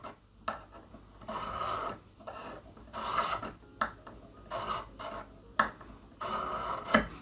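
A sharpening stone rasps along the blade of a pair of tailor's shears in about seven steady, even strokes from base to tip, each pass a close, dry scraping sound separated by short pauses.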